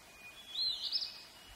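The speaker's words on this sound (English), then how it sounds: "hermit thrush" A hermit thrush's fluting song rises faintly from distant woods over quiet outdoor ambience, one phrase lasting under a second.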